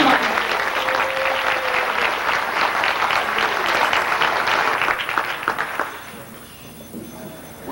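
A crowd at an outdoor hot air ballooning event claps in a sustained, fairly close round of applause that tapers off toward the end.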